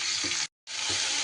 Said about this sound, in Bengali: ঝিঙেগুলো দিয়ে আমি ভালো করে ঘিয়ের মধ্যে একটু নাড়াচাড়া করে নেব